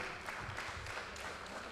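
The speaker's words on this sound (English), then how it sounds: "please again we give applause for all" Faint, distant applause from a small audience at a high school English debate competition final, a steady patter of clapping with no voices over it.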